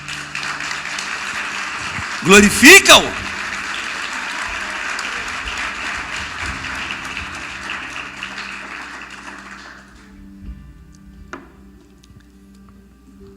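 Church congregation applauding during an evangelical sermon, a broad steady wash of clapping lasting about ten seconds with a brief louder burst of voices and a shout early on, fading out toward the end.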